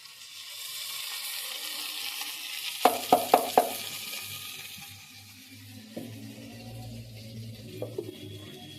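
Spice paste being fried and stirred in a pan, a steady sizzle with a quick run of four sharp spoon taps against the pan, then quieter scraping and stirring, close and clear.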